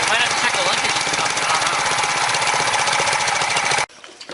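A Briggs & Stratton Quantum small engine being rebuilt after blowing up races at too high an RPM, a loud, steady, rapid mechanical clatter that cuts off abruptly near the end, leaving a quieter rattle.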